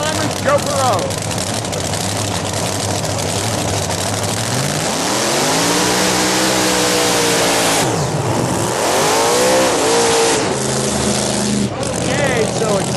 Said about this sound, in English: 1940 Willys with a big Chrysler Hemi supercharged engine for the power.